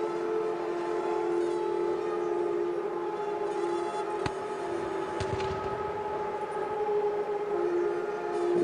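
Sustained, droning horns blow outside during a Thai royal coronation ceremony, forming a steady layered tone with a few sharp knocks and bumps over it, fairly loud and continuous throughout.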